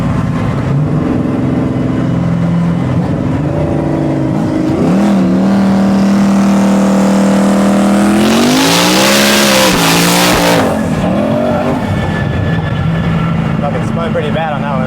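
A twin-turbo Mustang and a big-turbo Mk5 Supra race at TX2K, engines revving loudly and climbing through gears with turbo whoosh and a rising howl, tires briefly squealing as the cars roar on nearby under a continuous engine drone.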